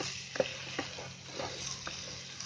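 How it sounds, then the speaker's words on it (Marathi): Egg being stirred and fried in a pan for egg fried rice, scrambled into loose bhurji-style bits, with a steady sizzle and several soft spatula scrapes at irregular intervals, close up and with no talking. "अंड्याची चांगली फ्राय बनायला पाहिजे भुर्जीसारखी."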